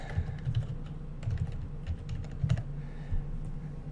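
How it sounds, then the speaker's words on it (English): Text typed on a computer keyboard, a quick run of close, light key clicks in irregular bursts with short pauses, alone without any talking. "I'm going to click in my image, and then I'm going to type in"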